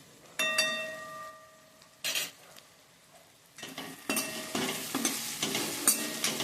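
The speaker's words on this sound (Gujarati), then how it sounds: "બધું સારી રીતે મિક્સ કરી લઈએ" A spoon stirs and scrapes through okra with grated coconut and gram flour in a frying pan, with a quiet sizzle and a brief metallic ring from the utensil.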